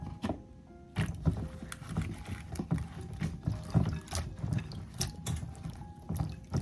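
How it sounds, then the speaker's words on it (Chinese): Okra is washed in a bowl of water with baking soda, the pods rubbed by hand, producing close, busy sloshing, splashing and squeaky rubbing sounds that come in uneven bursts without speech. "我们首先把秋葵清洗一下"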